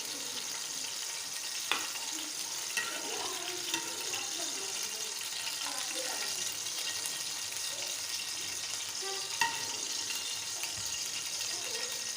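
Whole spices (cinnamon, black cardamom, green cardamom) and salt frying in oil in a pot for Kabuli pulao, a soft steady sizzle running throughout with a few faint clicks of utensils.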